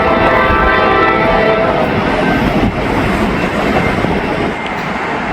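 A freight train rolls toward a railroad crossing in stormy weather, a loud, steady rumble of wheels and cars with continuous clatter close by, no horn standing out.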